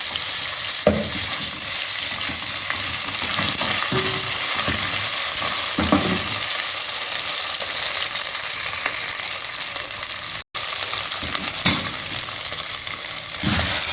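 Ginger garlic paste sizzles and fries loudly in hot oil in a pot for chicken pulao, a steady crackling hiss with a few stirring knocks and one brief dropout.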